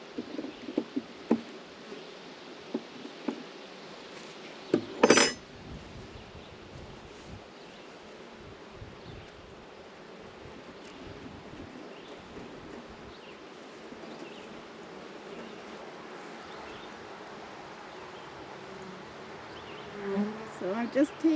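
Honey bees buzz steadily around a beehive fed with a pollen patty, a continuous close insect drone with light rustling and one sharp knock partway through.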